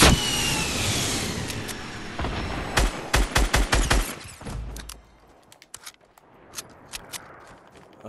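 Rapid bursts of gunfire from a gun in Fortnite Battle Royale, a string of loud sharp shots clustered together, then sparser, quieter shots over a low engine-like rumble.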